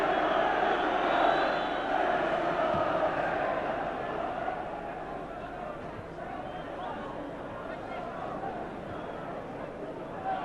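A home football crowd at Manchester United's ground in 1983 murmurs and roars steadily for ten seconds, a broad distant wash of massed voices with no single voice standing out.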